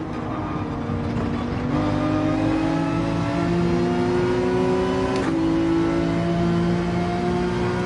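A Porsche 911 engine in the Gran Turismo racing game, revving steadily upward through first gear with a rising tonal whine, loud and sustained, with a brief shift blip midway and no voices.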